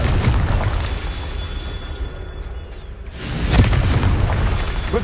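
A Confringo spell detonates in Hogwarts Legacy, producing a heavy, sustained booming blast with rushing whoosh and rumble that fades briefly, then swells again into a second loud burst, dense and continuous throughout.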